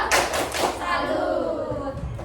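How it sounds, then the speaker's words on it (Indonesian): Children do a rhythmic tepuk jempol clap in a classroom, a loud fast flurry of claps and thumps with voices chanting along. "kita berikan tepuk jempol untuk teman-teman yang sudah menjawab"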